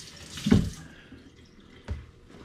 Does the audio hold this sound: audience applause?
no